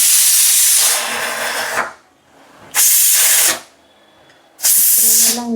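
A pressure cooker of curry vents steam in three loud, sustained hissing bursts separated by quieter gaps, with faint low sounds in between.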